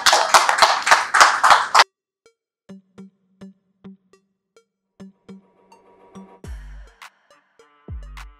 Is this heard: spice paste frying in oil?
no